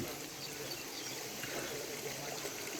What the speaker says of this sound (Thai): มีลำธารไหลผ่านยาวเลย